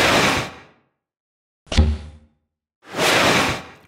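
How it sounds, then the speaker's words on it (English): A PVC tube struck once with a sharp hollow knock, set between two airy swooshes, one before and one after, each separated by silence. "this is followed by a swoosh"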